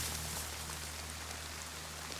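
Rain falling in a survival video game, a steady, faint hiss of drops with a low constant hum beneath.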